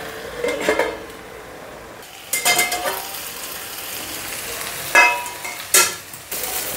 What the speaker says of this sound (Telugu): చూడండి ఆయిల్ భలే ఫ్రై అవుతున్నాయి కదా.